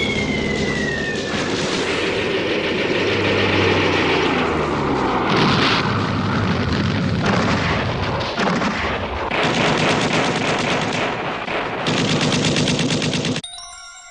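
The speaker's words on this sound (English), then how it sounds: "The enemy fighters with torpedoes were attacking at a low altitude, but Type Zero fighters were shooting them all down." Dense roar of WWII aerial combat between low-flying torpedo bombers and Zero fighters, with continuous rattling machine-gun and cannon fire, heavy blasts and engine drone, loud throughout before cutting off abruptly at the end.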